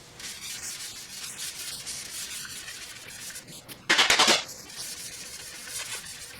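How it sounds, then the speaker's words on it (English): Steady rasping strokes of 400 grit sandpaper over a car body repair area, a continuous close scratchy hiss that turns louder and harsher for a moment before settling back into the even back-and-forth rhythm. "after you sand this with the 400 grit, we're done with our repair area"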